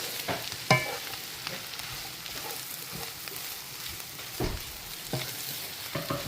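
Kottu parotta being stirred and fried on a griddle, with a steady sizzle broken by sharp metallic clanks and scrapes of spatulas striking the hot surface at irregular intervals, close and without talk.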